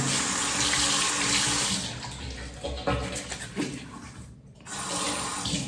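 Tap water running steadily into a sink while a man washes his face before shaving, a continuous close splashing rush that dips briefly midway and then resumes.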